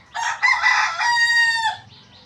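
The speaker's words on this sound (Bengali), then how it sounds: "মোরগগুলো খাচ্ছে যাচ্ছে আর চেঁচাচ্ছে খালি" A single loud rooster crow rings out nearby, rising and holding before trailing off, with no one talking.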